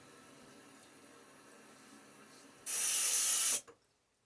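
Water runs from a bathroom sink tap in one close burst of about a second, then stops against a quiet room.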